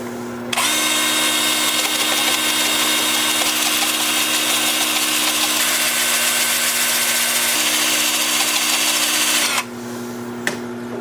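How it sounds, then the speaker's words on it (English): An alder wood bowl spinning on a lathe while being sanded with 80 grit paper: a loud, steady whirring hum with gritty friction that runs for about nine seconds, then cuts off abruptly. "while I sand this, starting with 80 grit, work up through 400"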